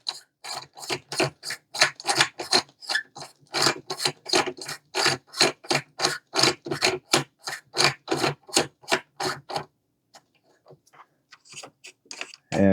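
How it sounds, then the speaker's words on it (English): A mil-spec AR-15 buffer tube threads into an Air Venturi Avenge-X Saber tactical airgun chassis with a steady run of close, dry rasping turns in even rhythm, then a pause and a few scattered final scrapes. "This is a mil-spec standard AR-15 buffer tube. So we'll get it screwed in."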